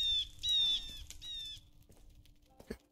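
In the Minecraft video game, a bird gives several sharp, bright squawks and chirps and then goes quiet, close and clear, followed by a soft low click.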